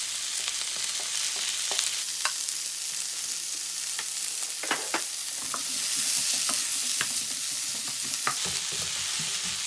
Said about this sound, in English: we're now going to do the veg with currently onions and celery for the chow mein.